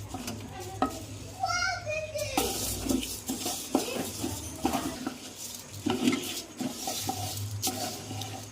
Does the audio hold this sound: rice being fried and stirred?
yes